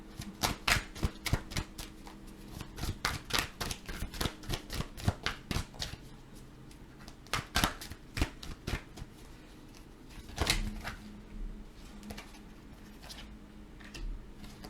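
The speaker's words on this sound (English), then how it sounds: "I got some more cards to shuffle" Tarot cards shuffled in quick repeated bursts of crisp riffling clicks, loud and close, pausing briefly before another flurry of shuffling.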